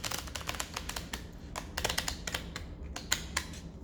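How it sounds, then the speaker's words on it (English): Very thick tarot cards are shuffled by hand, giving a quick, irregular run of crisp clicks and flicks up close, with no talking. "These cards are quite difficult to shuffle because they're very, very thick"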